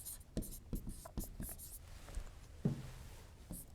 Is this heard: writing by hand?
yes